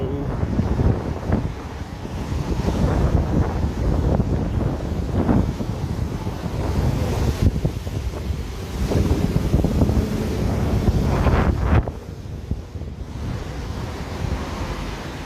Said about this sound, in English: the window's getting a bit windy, a bit breezy